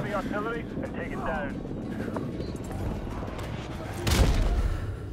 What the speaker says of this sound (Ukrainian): Вся граната в руках вибухла в мене.